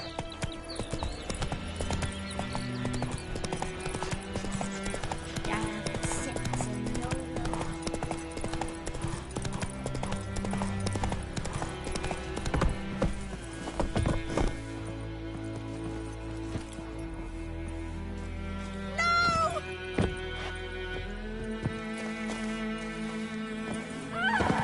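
Roach, the horse in The Witcher 3, gallops with a steady rapid clip-clop of hooves that runs throughout, blended with a continuous game music score and no talking.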